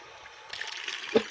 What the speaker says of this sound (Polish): To jest kran z wodą, który działa.